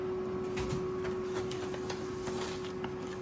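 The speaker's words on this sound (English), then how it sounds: "I'm gonna throw it back in my mixer to add these ingredients." An electric mixer works dough with sugar and cinnamon, giving a faint, steady motor hum with light ticking and knocking from the bowl throughout.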